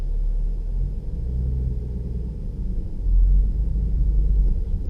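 A manual car pulling away in first gear gives a low, steady engine rumble from inside the cabin that swells slightly as it accelerates, with no talk.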